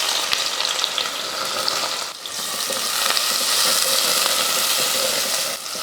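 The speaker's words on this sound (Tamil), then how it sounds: "வெங்காயம் வந்து நல்லா பொன்னிறமாக அப்படியே கலர் மாதிரி வரணும், அந்த மாதிரி தான் வறுக்கணும்" Onions frying in oil with whole spices for biryani give a loud, continuous, close sizzle that holds steady throughout, with no voices.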